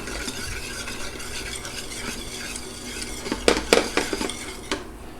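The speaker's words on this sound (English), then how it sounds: "What I'm doing is I'm just toasting this in butter so that it kind of wakes up the spices." Garam masala spice blend toasting in butter is stirred in a pan: a soft sizzle runs under repeated scraping and clinking of a utensil against the pan, growing louder and busier toward the end.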